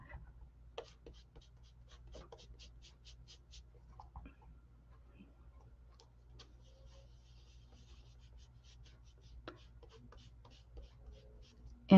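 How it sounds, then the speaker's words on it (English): A pen colors on smooth paper for a craft card, soft scratchy strokes in faint repeated bursts, close and quiet over a low steady hum, ending in a sudden loud bump. "I'm going to color it right on here."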